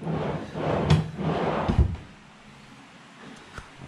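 A large wooden drawer is opened or closed in a newly built room, giving two close sliding thuds in quick succession, followed by quiet room tone.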